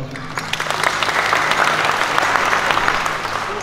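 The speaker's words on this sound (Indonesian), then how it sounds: "tepuk tangan untuk beliau." A crowd at a Bali land-certificate handover ceremony breaks into loud applause, dense continuous clapping from many hands close by, with faint voices mixed in.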